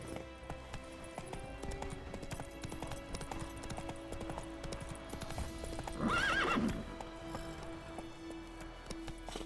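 A horse clip-clops along in Witcher 3, with steady hoofbeats throughout and a loud neigh partway through over soft game ambience.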